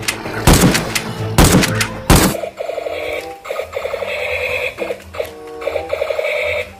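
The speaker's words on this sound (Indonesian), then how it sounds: "Ada mainan tembakan" Three loud bursts of electronic gunfire open, then a toy M416 rifle keeps up rapid, rhythmic beeping and buzzing shots in short bursts.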